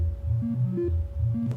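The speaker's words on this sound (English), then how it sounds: "So this is a sine wave going into it." A plain sine wave test tone fed into a synthesizer filter, heard as a steady held pitch with low, pulsing throbs underneath, fairly loud and alone.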